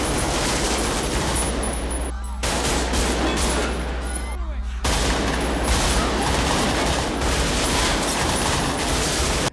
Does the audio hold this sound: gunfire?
yes